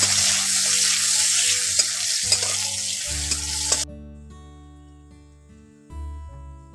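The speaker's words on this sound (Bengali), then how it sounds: "পেঁয়াজটাকে ফোড়নের সঙ্গে একটু ভালো করে ভেজে নিচ্ছি" Chopped onion fries with tempering spices in hot oil, a dense close sizzle with a few sharp stirring knocks that cuts off after a few seconds, leaving steady tonal music.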